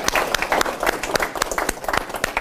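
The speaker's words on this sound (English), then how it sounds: "how about a round of applause for Mike and the organizers" Conference audience applauding a speaker named Mike and the event organizers, a close, brisk patter of many hands clapping with sharp individual claps standing out.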